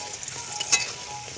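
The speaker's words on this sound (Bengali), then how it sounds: "চিকেনের জন্য আলু ভাজছি অল্প করে একটু হলুদ দিয়ে নিলাম" Potatoes fry in hot oil with a little turmeric for a chicken curry. A constant soft sizzle runs throughout, with one brief sharp clink or spatter partway through.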